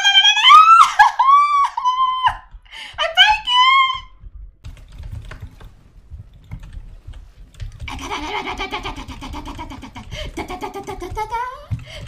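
Rapid computer keyboard typing and clicking during a heated Overwatch 2 match, a dense steady patter filling the second half after a stretch of loud shouting.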